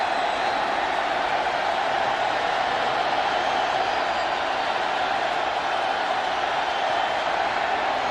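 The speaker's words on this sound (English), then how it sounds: "Crowd gets loud." Football stadium crowd at a Raiders–Seahawks game before a third down, a steady, dense roar of many voices filling the whole stretch without letup, loud and continuous.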